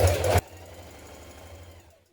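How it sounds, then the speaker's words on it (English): A sewing machine bastes through trouser pocket layers onto the side leg in one short, loud burst of stitching, then stops, leaving a faint low hum. "Now baste through all layers of the pocket to the side trouser leg here."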